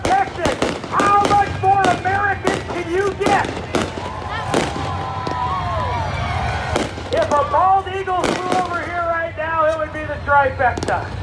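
Fireworks at a speedway pop and crack in rapid irregular bursts across the whole stretch, loud and close, while excited spectators shout and talk over them.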